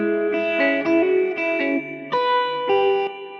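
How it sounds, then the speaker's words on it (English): Sustained synth-like chords and tones ring out with a lush, washy reverb tail, each phrase blooming and fading into the next. "we can also EQ the reverb itself."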